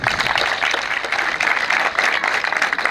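Crowd applause at an outdoor charity walk event for a cancer foundation, a steady, fairly loud wash of many clapping hands with slight swells, continuing unbroken for the whole stretch.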